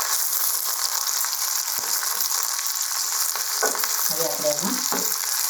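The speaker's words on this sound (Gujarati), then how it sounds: "તેલ સાથે આપણે ભીંડાને સારી રીતે મિક્સ કરી દઈશું।" Cut okra frying in oil for besan bhindi masala, a dense steady sizzle with a few stirring scrapes and knocks near the end, close up, and a brief voice speaking over it.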